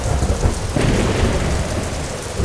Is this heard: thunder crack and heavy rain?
yes